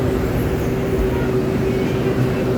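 An LRT light rail train near Dr. Santos station in Manila, a loud, steady rumble with a faint whining tone, heard from close by without talk.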